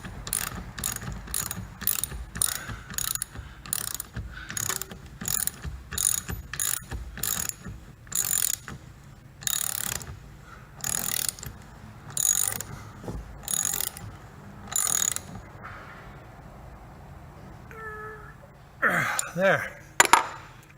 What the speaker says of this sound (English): See, I'm bolting these things in.